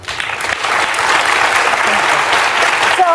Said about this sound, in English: I just think it's weird to be clapping.